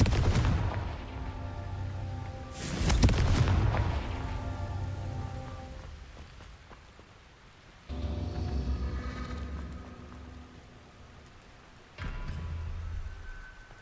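Repeated Confringo blasting-spell explosions in Hogwarts Legacy, a few heavy booming bursts each trailing into a crackling, rain-like roar of debris that slowly dies away, with one sharper later hit.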